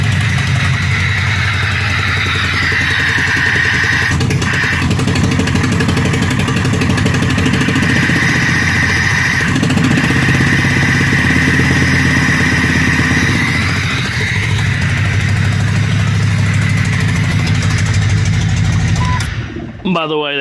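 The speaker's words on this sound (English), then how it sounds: "that's just running straight up header or exhaust manifold. There's no pipe on there, no muffler" A Jeep Cherokee XJ engine running rough with a bare header and exhaust manifold, with no pipe or muffler, idles with a loud, raw, uneven rumble and a loping beat. It runs close and continuous for about twenty seconds before cutting off.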